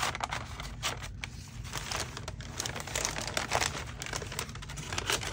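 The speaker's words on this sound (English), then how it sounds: "Crinkly, crinkly." Paper crinkles and rustles loudly as a piece is roughly cut for envelope decorating, a continuous close-up crackling with irregular sharper crunches throughout and no talking.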